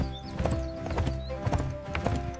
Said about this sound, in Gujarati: બળદગાડું લઈને સ્કૂલ તરફ નીકળ્યો